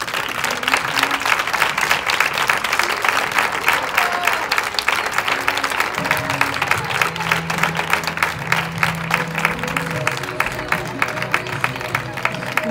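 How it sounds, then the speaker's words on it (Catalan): Sustained applause from a crowd at a sixth-grade graduation ceremony, dense steady clapping throughout with a few cheers and voices mixed in. "Fort aplaudiment per Nàdia"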